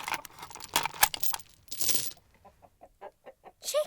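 Chickens cluck and squawk up close in short, uneven bursts, then settle into a run of soft, evenly spaced clucks with a louder call at the end.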